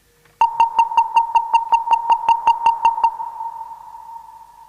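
Sixteen evenly spaced, bright sonar-like pings from a modular synthesizer ring out in a steady rhythm, each tone sharp and close, then stop and leave a fading sustained hum alone.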